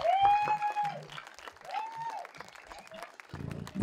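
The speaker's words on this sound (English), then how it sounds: "And another round of applause." Audience applause for a storyteller's performance, a scattered, close texture of clapping that runs throughout, with a voice and tonal sounds rising above it and a louder burst near the end.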